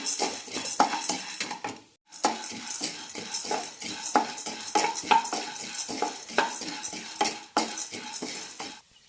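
A spatula rhythmically scrapes and stirs half a cup of chana dal dry-roasting in a pan over a medium flame for drumstick-leaf idli podi, with steady close metallic scraping, one brief pause and no talking.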